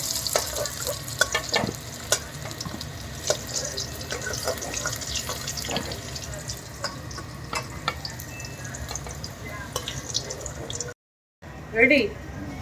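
Neem leaves sizzling in oil in a kitchen pan, steady crackle with spatula stirs and clinks, a brief dropout near the end, and a voice speaking briefly over it.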